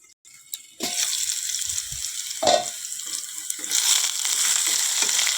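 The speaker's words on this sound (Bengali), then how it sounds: "দেখো, আলুগুলোও হালকা ভাজা হয়ে গেছে।" Potatoes fry in a pan in a home kitchen, a steady close sizzle that begins abruptly after a brief quiet start and swells slightly toward the end, with a few clinks of stirring.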